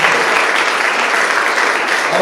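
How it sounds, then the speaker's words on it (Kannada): An audience at a music and award ceremony in memory of Pandit Puttaraj Gavai bursts into loud, dense applause, continuous and full for the whole stretch. "ಜೋರಾದ ಚಪ್ಪಾಳೆ"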